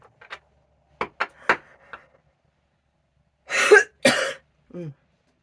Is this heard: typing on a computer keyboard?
no